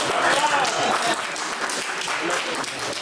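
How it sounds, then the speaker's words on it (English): Audience clapping for a child at a youth open-mic prize distribution, a dense, close patter of many hands that holds steady for a few seconds under a faint murmur of voices. "We need applause for this child."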